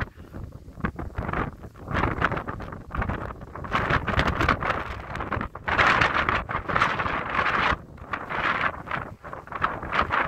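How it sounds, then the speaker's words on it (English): Strong gusting wind of about 20 knots or more buffets the microphone with rough, roaring bursts that rise and fall continuously, loud and close, with no talking. "It's really windy."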